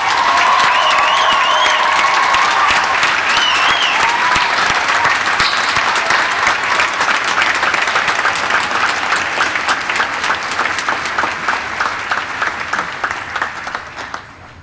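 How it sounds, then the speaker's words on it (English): A large graduation ceremony audience breaks into loud, sustained applause with dense clapping and some cheering, continuing steadily for the whole stretch before tapering slightly at the end. "let's give your family and friends a resounding round of applause"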